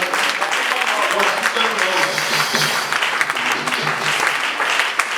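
A church congregation at a Sunday service claps and cheers continuously, a dense, loud wash of applause with voices mixed in throughout.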